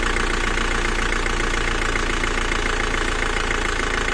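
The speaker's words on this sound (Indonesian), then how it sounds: "mesin drop, RPM down" A car engine idling with a weak fuel pump (bospump), running rough with a knocking, uneven rhythm as the RPM sags, steady and close throughout with no voices.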